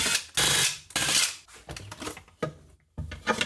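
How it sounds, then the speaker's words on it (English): Screws being backed out of the top lid of a DIY battery pack, small ratcheting, clicking mechanical bursts in several short runs, fairly close, with no talk. "So there's just 4 screws on top to remove."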